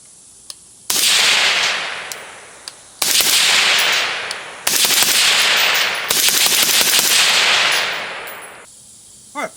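Suppressed 5.56 rifle fired through a Cobalt Kinetics Scrambler K can from 718 on its QD muzzle device: four loud, sharp reports spaced a second or two apart, each with a long ringing echo decay outdoors, no talk.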